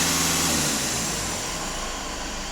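A Skoda Octavia 4x4 engine idles, giving a steady low rumble. A lower hum in the opening second fades, leaving an even, fairly loud drone with no voices.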